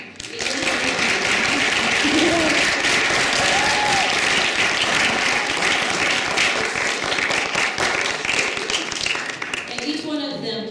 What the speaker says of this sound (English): I just want everybody to see you and just hear them clap for the amazing job